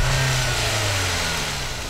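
A car's 2-litre four-cylinder engine of 143 horsepower revs and pulls, a steady droning hum that shifts pitch as it accelerates, loud and close.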